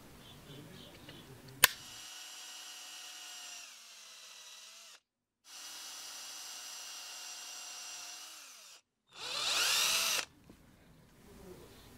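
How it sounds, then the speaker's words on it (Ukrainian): Power drill boring holes through 5- and 10-kopeck coins for a homemade tail-spinner fishing lure, two sustained whining runs with a short pause between, followed by a brief louder burst near the end. "Свердлимо отвори."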